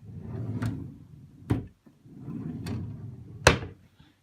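A drawer slides open and bumps shut twice in a row, each scraping glide ending in a sharp knock, close by in a quiet university student studio room.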